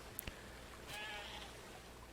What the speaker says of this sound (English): I hear more and more sheep being slaughtered